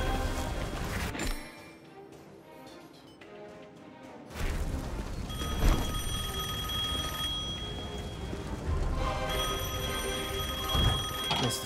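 Telephone ringing in the video game Devil May Cry 5, a bright repeating ring over dense game sound and a crash, fairly loud throughout, with no talk.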